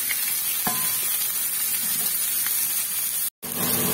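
Fish coated in masala fries in a covered pan, giving a continuous close sizzle with a couple of light clinks and one brief dropout near the end.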